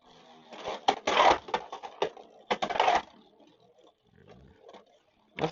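Beyblade X tops clatter and collide in a plastic bucket stadium, giving sharp clustered clicks and rattles that thin out into sparse faint scrapes.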